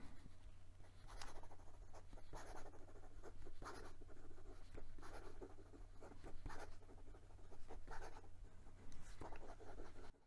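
Pilot Custom 74 fountain pen writing quickly on paper, a close run of scratchy nib strokes in uneven bursts over a low steady hum, with no voices.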